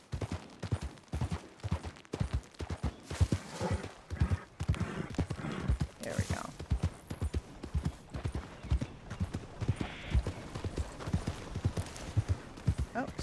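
Rapid rhythmic hoofbeats of galloping horses in a video game thud steadily throughout, with a person briefly speaking over them.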